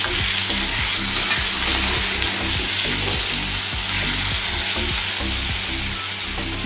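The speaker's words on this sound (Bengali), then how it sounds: "আমি আলুটা ভাজার সময় অল্প একটু হলুদ দিয়ে দিলাম" Potatoes fry in hot oil with a little turmeric, a loud, steady close sizzle with rhythmic scraping and stirring throughout.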